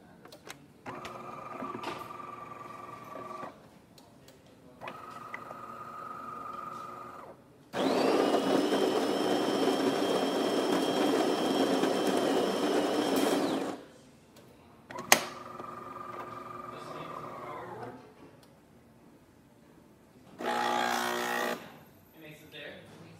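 A DeLonghi Magnifica espresso machine grinds beans in short whirring bursts, then its pump runs in a louder, sustained buzz while brewing coffee, with further whirring bursts after, all close and fairly quiet.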